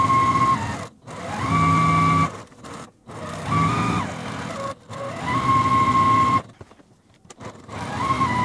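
A sewing machine stitches half square triangles for a quilt in several steady runs of high motor whine and rapid needle chatter, broken by short pauses, close up.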